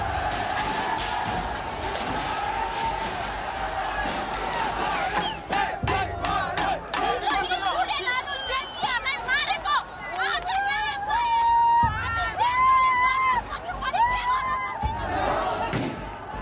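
A large crowd storming the federal parliament building, with loud shouting, yelling and battle cries over a roaring hubbub, sharp slams and shrill whistles or cries rising toward the end.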